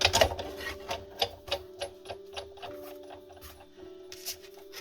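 A Sizzix die-cutting machine cranking plates through, giving a series of rhythmic clicking ratchet ticks at a steady pace, fairly quiet and close, with a faint background hum.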